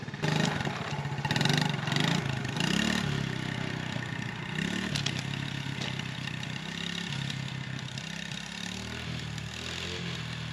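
Small Honda Fourtrax TRX70 quad running on a test ride, its mid-pitched engine droning steadily and rising and falling as the throttle changes, with some rattling clatter and no talking.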